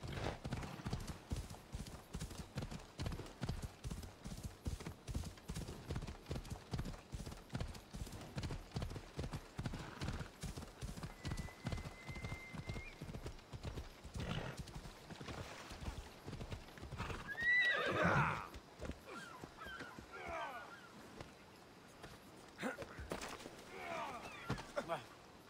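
A horse in Assassin's Creed Odyssey gallops with rapid, even hoofbeats that slow into a trot, then lets out a loud neigh midway, with game sounds and someone talking at times.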